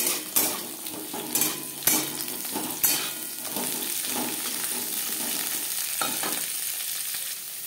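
Bottle gourd stalks drop into a pan of frying garlic with a few sharp clatters of the spoon, then a steady close sizzle runs under continued stirring.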